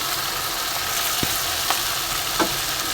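Chopped tomatoes and green chillies hit a hot pan of ginger-garlic masala for a fish-head curry, giving a steady loud frying hiss with a few brief utensil taps and scrapes, close and without talk.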